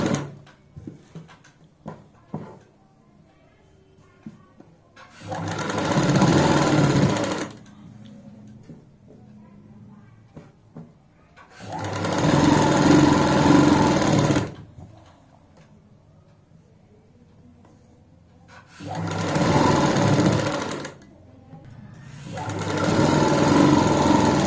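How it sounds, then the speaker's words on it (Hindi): Sewing machine stitching a half-inch seam, running in four separate bursts of a few seconds each with quiet pauses and small handling clicks between them. "आधा इंच की चौड़ाई वाली सिलाई लगाएंगे।"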